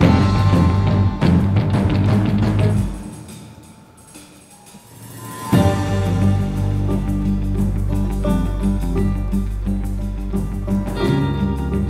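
Interactive video game music for a western desert town, playing while enemies search for a player who has escaped combat: full instrumental score with steady sustained tones, a quiet dip in the middle, then a rise back to full, busy texture.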